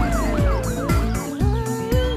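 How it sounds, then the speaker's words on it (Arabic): An ambulance siren arriving, loud and close, with rapid rising and falling wails repeating steadily over low engine rumble. "ها وصل الإسعاف"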